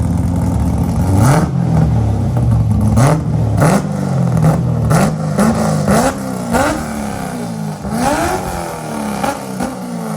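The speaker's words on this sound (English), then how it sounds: "Mark, would you rev it up a couple times?" A Nissan 240SX engine fitted with headers revs repeatedly, each blip climbing sharply and falling back in a quick rising-and-dropping pattern, loud and close with no talk over it.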